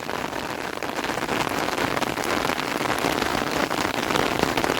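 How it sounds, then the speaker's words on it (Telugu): Steady rain falls on a rural pasture where cows graze, a dense even hiss of drops pattering on surfaces, close and continuous throughout with no talk. "సౌండ్ ఒకసారి వినండి, జస్ట్ ఇప్పుడే రైనింగ్ స్టార్ట్ అయింది"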